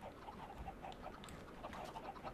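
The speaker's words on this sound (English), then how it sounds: "There we've got the chickens." Minecraft chickens on an egg farm clucking in short, irregular bursts at moderate level over a steady low game ambience, with no talking.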